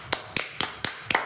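Five crisp, evenly spaced hand claps sound close and alone in a quiet radio studio.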